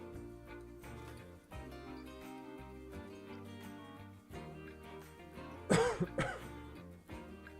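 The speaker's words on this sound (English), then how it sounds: "I feel like the coughing is less worse than it was" A streamer coughs briefly several times close to the microphone, a short burst that stands out over steady background game music.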